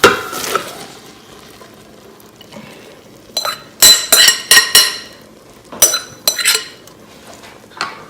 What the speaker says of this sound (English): Now I'm going to add the rest of my beans to the pot.